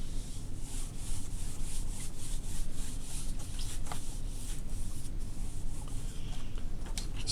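An eraser rubbing across a board during a physics lesson on rotational motion: continuous scratchy back-and-forth strokes at a brisk, even rhythm for several seconds, close and moderately loud with no talking.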